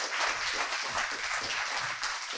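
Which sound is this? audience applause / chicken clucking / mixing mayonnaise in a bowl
audience applause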